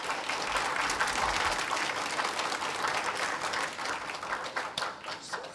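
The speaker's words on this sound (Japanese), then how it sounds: "拍手お願いします。" An audience at a Japanese food-culture event claps together, a full, steady burst of many hands that thins and fades toward the end, fairly soft overall with no talk over it.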